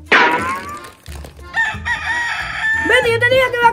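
A rooster crows loudly and close, one long rising-falling call followed by more crowing, with brief clucking and background voices talking over it.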